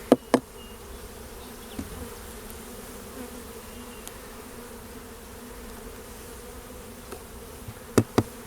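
Honey bees buzzing steadily around an open hive during an early-season inspection in New York, a continuous close drone with a few sharp clicks and taps from hive parts at the start and end.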